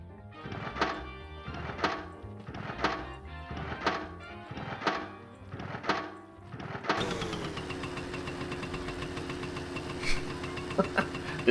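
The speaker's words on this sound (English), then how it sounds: "Endless motorbike noises." A motorbike in the game My Summer Car starts with a run of rhythmic, repeated thumping cranks about once a second. The engine then catches and settles into a steady, buzzing idle with a few sharp clicks, heard alone and fairly quiet.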